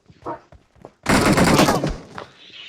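A shotgun blast in a video game lands loud and sudden after scattered voices, with a short crackling tail that fades out. People talk around it.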